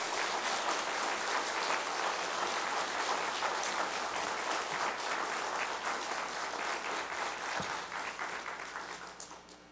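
A church congregation at an early-morning revival service claps together in sustained, dense applause that tapers off near the end.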